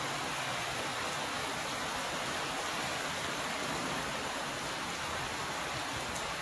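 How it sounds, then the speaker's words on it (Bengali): Heavy downpour, a dense, steady hiss of rain that stays even and unbroken throughout, with no voices. "মুষলধারে বৃষ্টি হচ্ছে"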